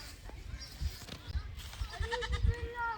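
Goats bleat at a farm-style café table, with several short wavering cries rising over background chatter and nearby voices, loudest toward the end.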